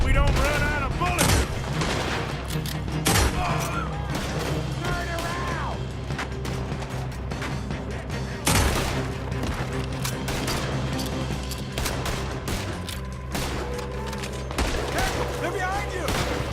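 Heavy shootout gunfire in Red Dead Redemption 2, dense overlapping rifle and pistol shots and mechanical clatter throughout, loud and constant, with game dialogue and background music underneath.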